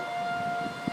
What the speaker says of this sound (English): Hopefully that's just siren for a severe thunderstorm.